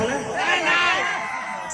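Live concert crowd at an outdoor show in Dangaigaon shouting and cheering in a dense, continuous roar of many voices, steady and fairly loud throughout.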